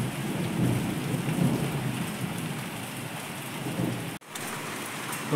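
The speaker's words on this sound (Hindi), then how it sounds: "बाहर जो हो रही है बहुत तेज़ बारिश" Heavy night rain pours down steadily in a dense, hissing wash, with a deep roll of thunder underneath; the sound cuts off abruptly near the end.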